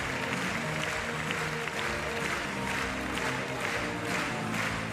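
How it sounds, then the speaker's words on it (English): Crowd applauding at the Paris 2024 Paralympic para judo finals, a steady, distant wash of clapping filling a large arena with a faint commentary voice beneath. "What an appreciative crowd."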